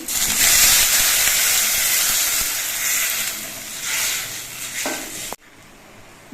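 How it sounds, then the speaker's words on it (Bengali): Broth poured into spice masala frying in oil in a pan bursts into a loud, hissing, steamy sizzle that slowly eases, then cuts off abruptly. "এবার এর মধ্যে আমি ঝোল দিয়ে দিচ্ছি"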